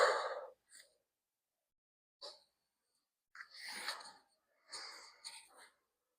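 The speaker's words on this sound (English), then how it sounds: "Full breath out." A person breathing out fully during a shoulder recovery exercise for aerialists, several soft, breathy exhalations in separate bursts, quiet and close, with no talking.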